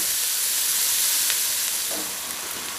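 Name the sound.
onion and salami frying in a pot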